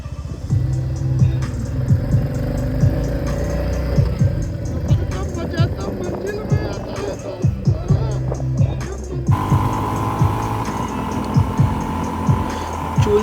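A motorbike rides through fresh snow on the mountain road from Lachung to Zero Point in Sikkim, a continuous engine drone close by with a shift in pitch near the end, while a voice talks over it.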